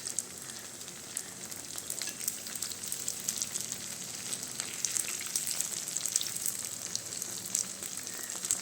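Unniyappam, sweet Kerala fritters, fry in hot oil with a steady, even sizzle and crackle that runs unbroken from start to finish, close and alone with no voices.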